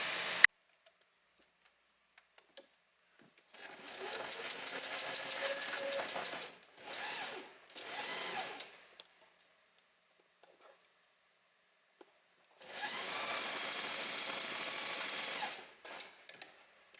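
A domestic sewing machine stitches a beginner-friendly blouse seam in three separate runs, each a quick, even mechanical whirring with ticking needle strokes, close and clear, with short pauses and near silence between them.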